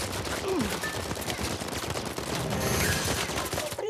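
Automatic weapon fire rattles in rapid bursts during an Uncharted 4 multiplayer match, fairly loud and dense with overlapping shots and game effects.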